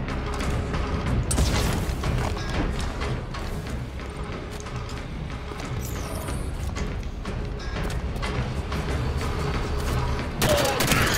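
Cannon explosions and weapon fire in the Battle of Sunaion mission of Halo 5: Guardians make dense, repeated booms and rattling bursts. The blasts overlap with mechanical clanks, loud and continuous throughout.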